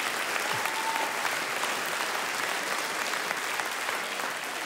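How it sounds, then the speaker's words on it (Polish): An audience at a cabaret show claps together in a steady, continuous wash of applause that stays fairly soft and even throughout. "brawa dla pana Kamila oczywiście."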